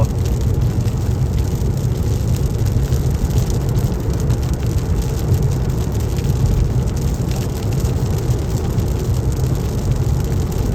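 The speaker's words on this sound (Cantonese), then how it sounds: "呢場雨好嘢，及時雨啊！" Heavy rain while driving through hill country in the United States, drumming steadily on a moving car. A dense, constant hiss and roar with a low rumble of the vehicle underneath, unbroken throughout.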